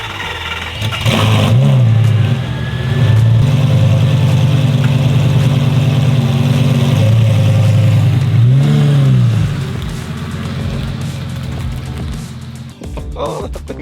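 A car engine cold-starts at 7 a.m., roaring loud and close with repeated revs that rise and fall, then settles to a quieter idle before fading; a voice talks briefly over it.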